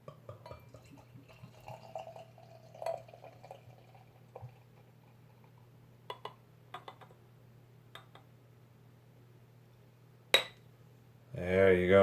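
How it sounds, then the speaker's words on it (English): Borg Surtur barrel-aged beer poured from a bottle into a glass, a quiet low trickle with faint drips and a light glassy clink near the end, over steady background hum. "And I'm just going to pour this."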